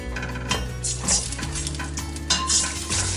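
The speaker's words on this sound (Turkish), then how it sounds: "Şöyle bir karıştırıyorum." A utensil scrapes and clinks against a frying pan as chicken stew with red peppers is stirred, with a low sizzle of frying underneath.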